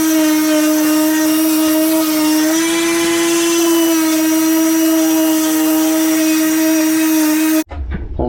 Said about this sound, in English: drill a new hole the right size